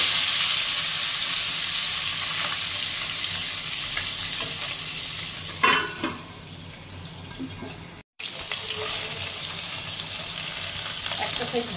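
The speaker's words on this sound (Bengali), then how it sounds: "মাছটা ভেজে নিচ্ছি।" Tengra fish frying in mustard oil in a wok, a strong continuous sizzle with a sharp burst of spitting midway, briefly dropping out before the hiss returns.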